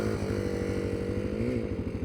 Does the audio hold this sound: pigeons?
no